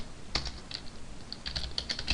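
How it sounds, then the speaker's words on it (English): Short bursts of computer keyboard typing while entering Java code, with distinct key clicks clustered in uneven runs and brief pauses, close and fairly clear. "Let me type it right."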